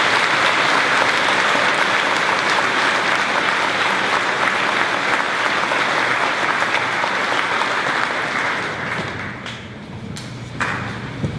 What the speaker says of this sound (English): Please give our honor students a well-deserved round of applause.